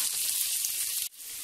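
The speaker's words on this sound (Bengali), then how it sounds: "এখন আলুটাকে শুধু সামান্য 2-3 মিনিট আমি এই মশলাগুলোর সাথে ভেজে নেব" Potatoes fry with spices, onion and chili in a hot pan for a beef dish, a loud dense sizzle that dips sharply for a moment before resuming.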